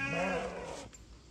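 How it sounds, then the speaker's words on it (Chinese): An angry goat lets out one loud, close, wavering bleat that cuts off abruptly, leaving a quiet tail of background noise. "它生气了，有一只羊生气了"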